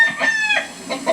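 An older Aseel rooster clucks and squawks in a quick series of close, loud, harsh calls while a handler holds him by the leg after pulling him from a pen.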